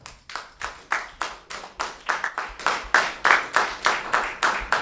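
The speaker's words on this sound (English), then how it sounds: "clap unto God" A church congregation claps in steady rhythmic unison during a worship service, roughly three to four sharp claps per second, close and lively, with no talking over it.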